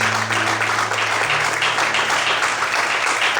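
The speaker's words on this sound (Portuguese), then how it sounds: "glorifique e aplauda Ele nessa noite" A church congregation applauding after a sermon, a steady, dense wash of clapping from a large crowd, with a sustained low tone underneath.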